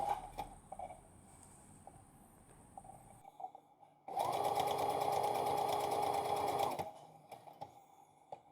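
Sewing machine stitching the hem of a circle skirt: a steady, loud mechanical whir runs for about three seconds after softer handling noises, then stops abruptly.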